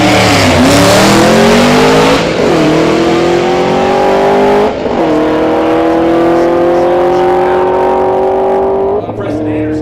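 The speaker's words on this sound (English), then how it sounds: "The 2014 Camaro" A 2014 Camaro making a drag racing run at a Sick Week event, its engine loud and close as it revs up through several gear changes, each shift dropping the pitch before it climbs again.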